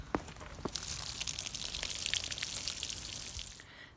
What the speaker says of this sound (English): Let's water that.